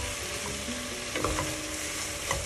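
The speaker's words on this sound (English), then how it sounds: "stir it" Sautéed tomatoes for a Goan beef stew are stirred in a pan, a continuous frying sizzle with a few soft scraping strokes of the spoon, close and steady.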